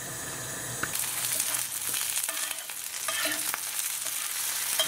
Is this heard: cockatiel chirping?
no